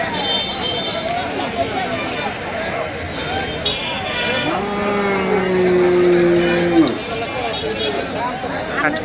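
At a busy village cattle market selling Sindhi and Sahiwal bulls, a cow gives one long, drawn-out moo close by, rising over the constant murmur of crowd chatter and people talking.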